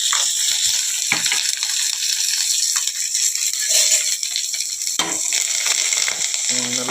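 Crushed garlic, curry leaves and asafoetida frying in a pan for masala puffed rice, a loud close sizzle with scattered stirring scrapes and clinks throughout.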